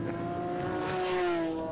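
MG Midget and Porsche sports racing cars battling at a circuit race meeting, a steady sustained engine drone with rising pitch, fairly loud and continuous.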